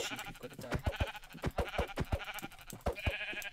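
Sheep bleat in a video game, a continuous wavering call running through a steady game soundtrack with a series of sharp clicks and hits, with no talking over it.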